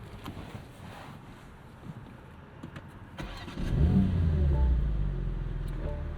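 A 2023 BMW M2 with a 6-speed manual, its exhaust in quiet mode, starts with a brief crank followed by a deep, steady idle rumble close by. Faint clicks and cabin noise come before it.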